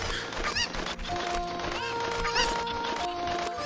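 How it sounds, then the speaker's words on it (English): Cucco chickens cluck and squawk in The Legend of Zelda: Ocarina of Time Master Quest, with short chirpy calls repeating over steady game music and effects. "Man, these chickens take forever."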